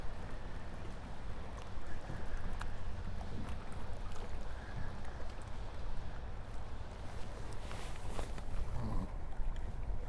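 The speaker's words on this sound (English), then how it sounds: "we're going to be casting into the wind, which is pretty strong today and steady" Strong, steady wind buffets the shoreline at a fishing spot, making a continuous rough rumble with occasional gust-like swells and no voices.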